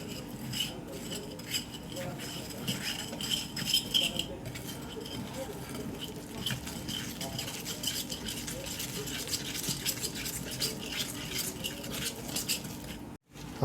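A spoon stirs sugar into a mixture for homemade cinnamon rolls. It makes steady, close scraping and light clinking against the bowl that carries on without a break.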